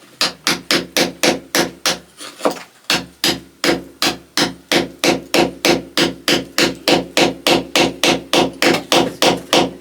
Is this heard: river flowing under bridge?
no